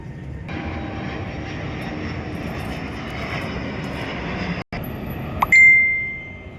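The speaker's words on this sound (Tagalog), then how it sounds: "So daanan to ng eroplano." A Cebu Pacific airplane passes overhead above a rooftop, a steady distant engine roar lasting several seconds, followed by a brief high clink and ringing tone.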